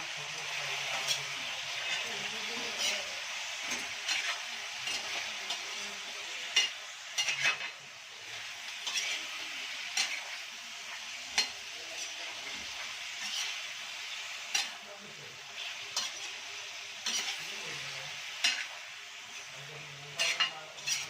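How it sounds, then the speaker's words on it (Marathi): Steady sizzling of chicken frying in a pan without water, broken by repeated scraping and clinking as a utensil stirs it. Close by, with no voices. "व्यवस्थित असं परतून घ्यायचं।"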